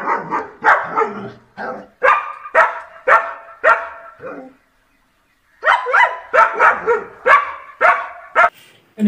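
A dog barking in repeated loud close bursts, rhythmic woofs with a short pause midway before the barking resumes, no speech over it.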